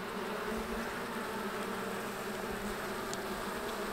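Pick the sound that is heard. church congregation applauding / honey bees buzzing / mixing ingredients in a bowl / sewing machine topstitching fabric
honey bees buzzing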